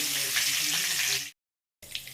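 Steady oily sizzling of peas frying in a pan, cutting out abruptly to silence midway, then resuming more softly.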